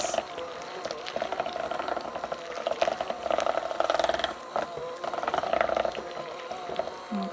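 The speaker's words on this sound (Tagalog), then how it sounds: "Just give it a good mix." Thick cheese pimento spread being stirred in a bowl, wet squelching and sloshing in uneven bursts, close and steady, with a voice talking faintly underneath.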